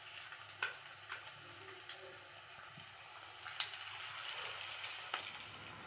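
Potato and capsicum pakodas fry in hot oil with a continuous close bubbling sizzle that swells slightly toward the end, marked by a few light taps and clinks, with no speech.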